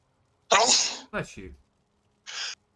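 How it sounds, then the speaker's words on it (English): A sharp sneeze bursts out, followed by a short voiced sound and then a brief breathy noise after a pause. "More sneezes."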